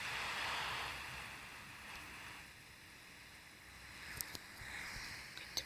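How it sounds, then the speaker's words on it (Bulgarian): Rain falls in Minecraft Pocket Edition survival mode, a soft, even, hissing wash that runs steadily and faintly throughout, with a few light ticks near the end. "Ето заваля сега дъжд."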